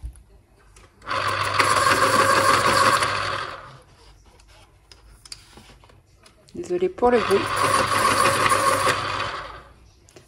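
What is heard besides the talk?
electric pencil sharpener sharpening pencils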